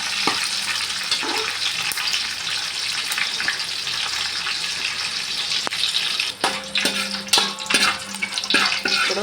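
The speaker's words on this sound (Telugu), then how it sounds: "ఇప్పుడు అన్నీ ఇదంతా లైట్గా వేయించుకుందాం." Crushed whole spices for chicken biryani sizzle and fry in a pan, a steady frying hiss throughout with scraping stir sounds and clinks toward the end, no talk.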